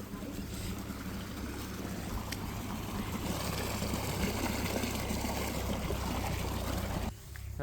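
Water rushes steadily from a small waterfall on a farm, a continuous broadband roar heard up close, with a low hum underneath and a brief dip near the end.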